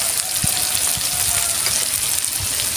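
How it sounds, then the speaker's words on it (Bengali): Ginger garlic paste frying with chilli powder and turmeric in a pan, a steady, fairly loud hiss of oil with occasional soft low stirring thumps, continuous throughout. "ভালো করে আমি কষাবো"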